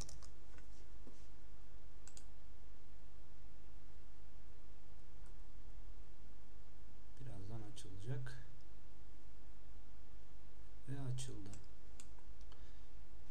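Computer keyboard keys clatter in two brief clusters of rapid clicks while a title is typed in Premiere Pro, faint steady hum underneath and someone speaking Turkish elsewhere in the recording.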